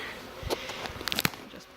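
Honey bees buzz around a queen castle as the colony is set up, a soft, steady drone with a few brief louder passes close by and no talk.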